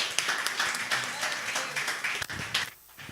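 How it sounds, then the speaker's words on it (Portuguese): A church congregation claps in praise during a worship service, with irregular, moderately loud claps mixed with voices over about three seconds. "Quero pedir uma salva de palmas a Jesus"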